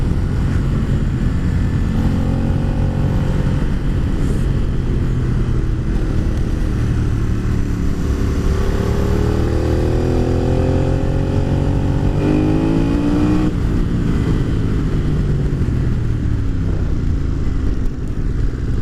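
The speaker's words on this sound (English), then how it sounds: "you can hear from the engine that this is what the bike wants" An Aprilia Caponord motorcycle engine pulls hard and loud up close, its pitch climbing steadily through the revs with a shift partway through before rising again.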